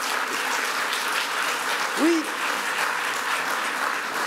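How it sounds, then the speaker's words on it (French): Audience applause at the close of a conference talk, a dense, even burst of many hands clapping throughout, with one brief voice speaking over it midway. "mais on peut vous applaudir puisque c'est fini quand même."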